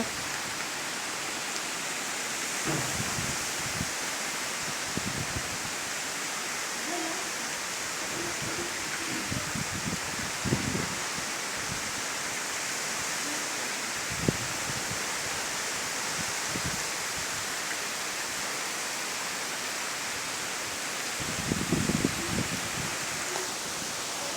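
A constant roar of heavy rain and gusting wind during Cyclone Titli, broad and unbroken, with occasional thumps and rattles standing out briefly.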